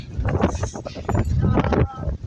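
Strong wind buffets the microphone in loud, rough gusts during a thunderstorm, with rain noise mixed in beneath a voice speaking throughout.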